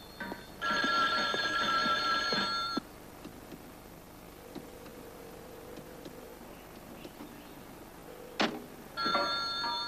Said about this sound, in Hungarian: vedd fel a telefont!